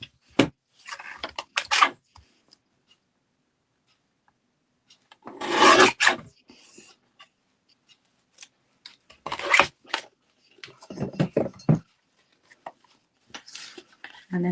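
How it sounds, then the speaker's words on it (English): Wood being trimmed with a rasp file, heard as several separate bursts of coarse, scraping strokes with quiet pauses between them, close and fairly loud. "Let's trim that off."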